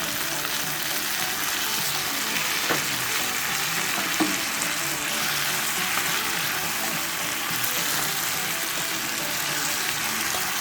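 Black pepper chicken breast frying in a pan as mixed sauce goes in, a steady loud sizzle running throughout with faint stirring knocks.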